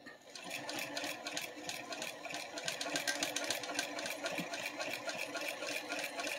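A sewing machine runs steadily and close by for about six seconds, its needle giving a rapid, even rhythmic chatter without pause, and no one speaks.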